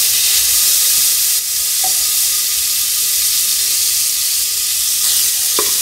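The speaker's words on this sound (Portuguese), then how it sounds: "E aqui ela vai fritando o bacon, gente, ó." Bacon sizzling and frying in a pan on a stovetop, a loud continuous crackling hiss with occasional small pops, close and steady throughout.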